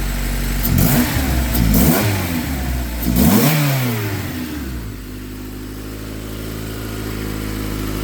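A car engine revs up twice in quick bursts, pitch rising and falling, then settles into a steady idle hum, heard up close.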